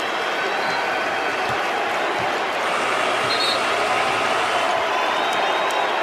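A large indoor crowd at an NBA game in Staples Center roars and cheers steadily, a dense wall of noise that holds at high volume throughout.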